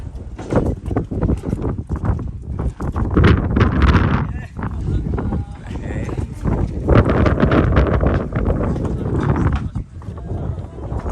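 Strong wind buffets the microphone on a mountain summit at Seoraksan, a loud steady roar and rumble that fills the whole stretch, with voices talking over it.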